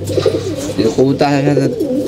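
Homing pigeons cooing close by just after returning to their loft, soft repeated throaty coos rising and falling, with a voice talking over them.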